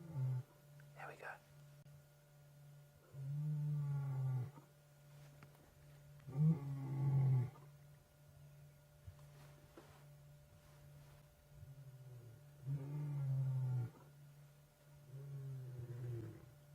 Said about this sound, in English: The other one's starting to roar a little louder.